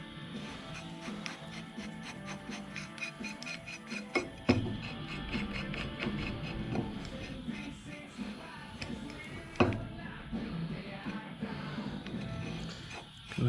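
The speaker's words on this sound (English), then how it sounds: "This is a 7/8 hex head, by the way, so you'll need a 7/8 socket to do it." A socket wrench turns a 7/8 hex head bolt on a Willys during rubber spring bushing removal, making a run of close mechanical ratcheting clicks with a few sharper knocks and metal clanks, and no speech.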